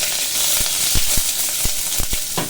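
Ground spices sautéing in oil in a pan for South Indian tomato rasam, a steady bright sizzle throughout with a few soft stirring knocks against the pan, close and fairly loud with no talking.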